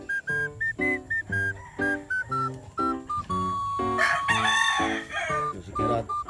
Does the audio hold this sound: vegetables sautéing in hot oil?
no